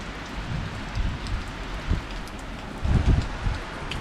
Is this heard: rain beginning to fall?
yes